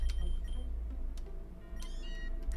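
Meowth's cry in the browser-based Pokemon roguelike PokeRogue: a brief, faint, synthetic meow-like chirp near the end, over quiet game sounds.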